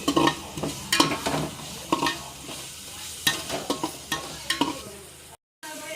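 A spoon stirs a vegetable biryani mixture of tomatoes and mint leaves in a large street-food pot, making repeated close scraping and sizzling strokes that stop briefly near the end.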